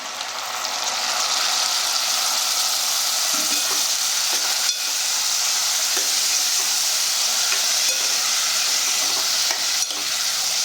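Onions, green chilies and tomatoes for cucumber curry fry in a pan, a loud, steady sizzle with occasional soft stirring scrapes and clicks throughout.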